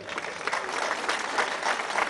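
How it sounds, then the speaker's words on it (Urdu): Applause from an audience at a Punjab Police ceremony, a dense, even patter of many hands clapping at moderate volume with no talk over it. "بھرپور تالیاں"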